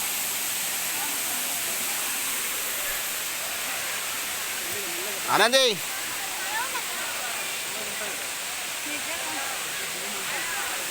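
A tall waterfall at Katika plunging from around 300 feet, roaring as a steady, loud broadband rush through the whole clip, with a brief spoken word from a person near the middle.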